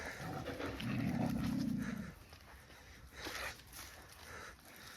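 Wolves at an animal park in Beauval: close breathy panting and a low rumbling growl swell loudly near the start, then fade into quieter rustling and faint movement.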